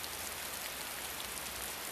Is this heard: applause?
no